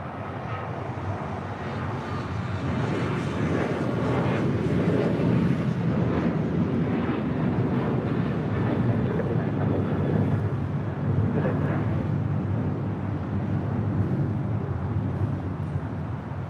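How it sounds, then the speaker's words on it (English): An American Airlines Boeing 737-800 takes off from LAX, a broad sustained jet roar with buffeting wind, loud and steady throughout, with no voices over it. "American 1979 taking off to Chicago O'Hare on a 737-800"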